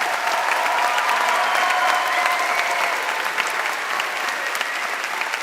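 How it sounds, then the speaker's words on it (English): Loud, sustained round of applause from an audience at a farewell ceremony, dense and continuous clapping throughout with a faint murmur of crowd voices underneath. "And then a big, big round of applause for everyone again."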